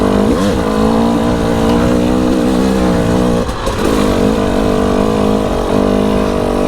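A Husqvarna TE300i dirt bike engine runs loud and close throughout while being ridden, with harmonic revs rising and falling in quick surges and a brief dip near the middle.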